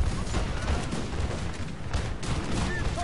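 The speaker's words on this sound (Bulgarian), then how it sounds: "Тук Coldstream ми ще поеме отново първия залп, но ще разстреля този футгард." A Coldstream Guards musket volley in Napoleon: Total War, a dense crackle of many shots firing together and blending into a continuous distant rattle of battle, a voice faintly audible underneath.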